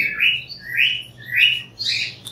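Java sparrows chirp in an aviary in Dhaka, giving four close, bright chirps in a quick, uneven series over a low background hum.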